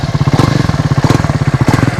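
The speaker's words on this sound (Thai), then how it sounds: "ก็มาฟังเสียง เครื่องยนต์ของตัว Clamber 400S กัน" A Triumph Scrambler 400X motorcycle engine idles close by, loud and steady, with a fast even thumping pulse and a slight rev partway through.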